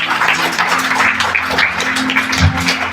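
Church congregation clapping loudly and steadily for the full stretch, a dense wash of applause with no voices standing out.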